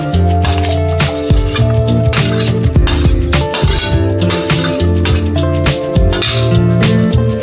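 Fried vegetables are tipped into a pot of boiled rice and lentils for bhoger khichuri and stirred, giving scattered clinks and scrapes of a spoon against the pot over steady background music.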